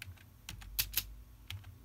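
A terminal command typed on a computer keyboard while setting up a fresh Raspberry Pi OS install: a few scattered close key clicks with short pauses between, quiet and without talk.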